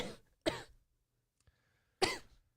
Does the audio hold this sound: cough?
yes